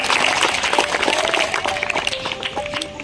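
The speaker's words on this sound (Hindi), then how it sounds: "एक बार जोरदार तालियों से स्वागत" Applause from an audience at a school prize-distribution ceremony, a dense steady wash of clapping lasting a few seconds with a faint sustained tone and stray voices underneath.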